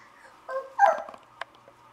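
A young child imitating a dog, giving a short whimpering yip followed by a couple of high little barks, close and fairly soft, with no other talking.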